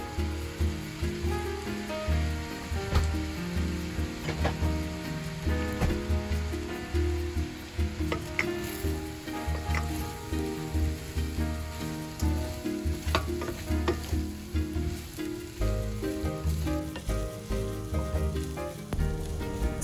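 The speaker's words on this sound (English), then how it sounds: "I will take my spatula and kind of flatten the rice down against the pan." Rice sizzles and fries steadily in a pan while a spatula presses and scrapes it flat, with repeated clicks and scrapes over a constant close crackle and no speech.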